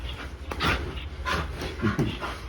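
A playful dog pants in quick bursts and lets out short whimpers and yips, close and fairly loud. The sounds come in uneven clusters over a low background hum.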